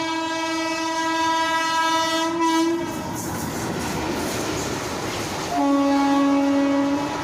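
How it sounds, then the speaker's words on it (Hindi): A passenger train in Delhi passes close by, sounding long, loud horn blasts over a heavy rumbling roar of wheels and carriages, with a second horn blast near the end. "ये ट्रेन पैसेंजर ट्रेन है।"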